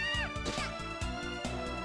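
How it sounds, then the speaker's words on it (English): Summoned cats in Castlevania: Dawn of Sorrow let out bright, pitch-bending meows over a steady, pulsing game soundtrack, with several short calls in quick succession across two seconds. "now you can summon cats"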